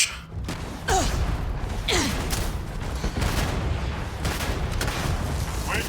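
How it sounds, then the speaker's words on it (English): Rocket launcher fire in the space game Starfield, heard as a few heavy bursts and whooshes over a dense, loud, constant rumble of combat noise. "They got rocket launchers."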